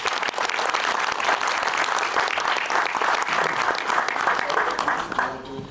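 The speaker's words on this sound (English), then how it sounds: "So a big hand to Recoil as well." Sustained audience applause fills a venue, the Bio Roy in Gothenburg, steady and dense throughout before tapering off near the end.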